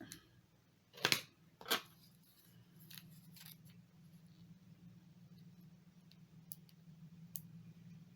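Scissors cutting small nail art pieces, heard as two sharp, close snips in quick succession followed by faint clicks over a quiet room hum.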